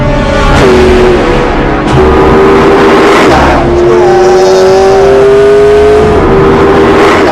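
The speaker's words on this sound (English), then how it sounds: "The electric motor and the big V8 generator are working together so that I have at my disposal 903 brake horsepower." Hybrid car with an electric motor and a V8 engine producing 903 brake horsepower, heard as a very loud engine howl with rising revs through several gear shifts, close up and constant.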